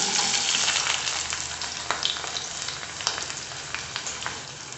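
One cup of small shallots frying in hot sesame oil, a steady dense sizzle with scattered crackles and pops, close and moderately loud, no voices.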